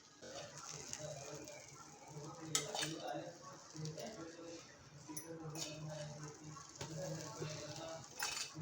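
Okra bhaji (bhendi bhaji) is served onto a plate with a metal spoon, giving scattered soft clinks and scrapes against the dish under nearby talking.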